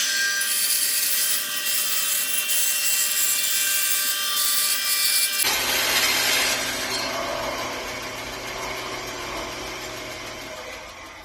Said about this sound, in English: I'm going to go get the heart shape cut out of these 2 pieces